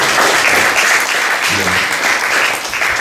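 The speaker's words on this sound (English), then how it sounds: "give another round of applause for your MC" Loud audience applause for the MC at a comedy show in a small venue, dense steady clapping with a brief voice in the middle.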